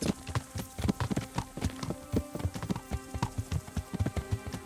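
Horse hooves at a trot in the video game Kingdom Come: Deliverance, a close, rhythmic clip-clop of steady footfalls under faint game ambience and music.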